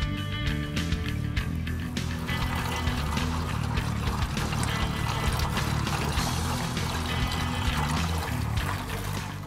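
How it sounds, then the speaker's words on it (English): Coolant drains from a car radiator in a steady, continuous pour of liquid that runs without a break, close and fairly loud throughout. "we're gonna drain all of the coolant from the radiator"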